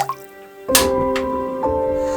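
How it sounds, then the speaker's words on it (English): Water and sugar poured into a large pot for homemade elderflower cordial, heard as a brief splashing pour with dripping and trickling liquid over a steady faint tonal hum. "Add your water and sugar into a large pot."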